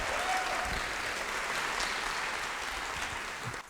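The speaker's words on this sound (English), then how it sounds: "Round of applause for our panel." A conference audience at a tech startup panel applauds steadily, a dense, even clapping from a full room that holds for several seconds before tapering off at the end.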